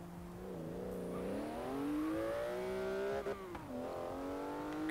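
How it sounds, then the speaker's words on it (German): A Porsche engine revving in the racing game Forza Horizon 3, its pitch climbing steadily through the gears with a brief dip at a shift, loud and continuous with no voices. "Auch dieser Porsche-Sound, der ist einfach so geil."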